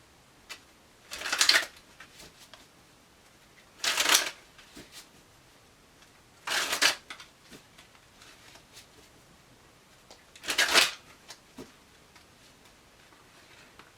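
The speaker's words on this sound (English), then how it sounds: "One more shuffle here." Tarot cards are riffled close up in four short, crisp bursts with quiet pauses between them in an otherwise still room.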